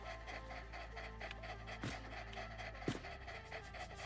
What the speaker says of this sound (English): Look at all these doggos.